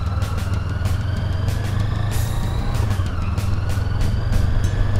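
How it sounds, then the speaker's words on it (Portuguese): Pickup truck driving past on a muddy expedition road toward Oiapoque, a steady low engine rumble and drone with rising and falling road noise, close and continuous with no talking. "Ah, mas a caminhonete passou direto."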